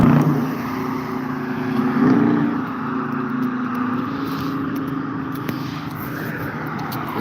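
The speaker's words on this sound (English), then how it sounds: "And you see how loud that car is?" A loud car passes on a street, a sustained roaring engine drone that swells slightly and stays strong throughout, heard close with no talking.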